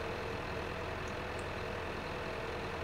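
A small tractor engine in Farming Simulator 15 strains under load with a steady, unbroken drone that stays at an even, moderate level.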